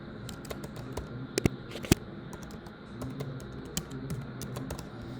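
An email address being typed on a computer keyboard, quiet irregular key clicks with a few sharper strokes standing out, close and alone against low room noise.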